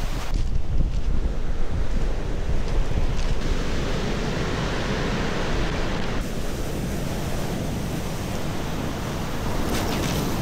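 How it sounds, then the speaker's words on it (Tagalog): Heavy surf roars continuously as big waves crash on the shore at Dingalan, Aurora, Philippines, with wind buffeting the microphone throughout. "Laki ng alon, no?"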